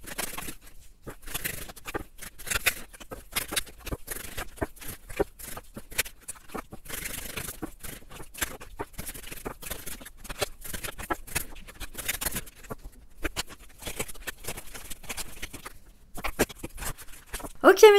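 Tarot cards shuffled for a reading, a long run of quick papery riffles and soft pattering flicks that go on almost without pause, close and fairly quiet, with no voice over them.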